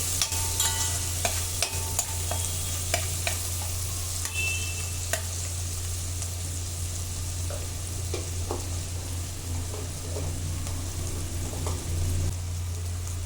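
Turmeric being fried with onions in a pan for a dried shrimp and cucumber curry: a steady close sizzle with intermittent stirring clicks, strongest early, over a low constant hum.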